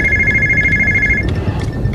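A telephone rings with a steady electronic trill, loud and close, cutting off partway through over a low room hum.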